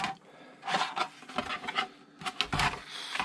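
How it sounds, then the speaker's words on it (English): Short, uneven bursts of scraping and rubbing come from a tool working the plastic body of a Tamiya Top Force RC car, close and fairly quiet with brief pauses between strokes. "so I have to cut or scrape."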